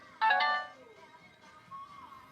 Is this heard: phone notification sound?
yes